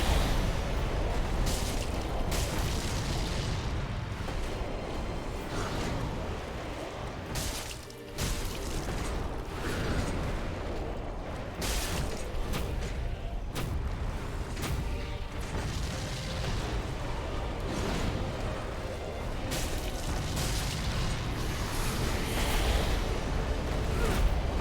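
Explosions go off during a boss fight in Dark Souls with the Cinders mod, heard as repeated heavy booms and bursts over a rumbling, roaring backdrop throughout.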